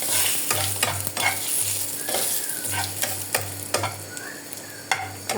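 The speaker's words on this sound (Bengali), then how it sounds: "তেলে দিয়ে ভেজে নেব।" Dried chilies fry in hot oil in a pan with a steady soft sizzle, broken by repeated scraping clicks of a spoon stirring them, close and moderately quiet.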